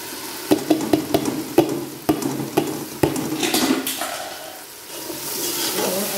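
Chopped tomato, onion, ginger, coriander and green chilli masala is stirred into a pan of maash dal, a spoon scraping and clacking in quick strokes, then a steady close sizzle of frying.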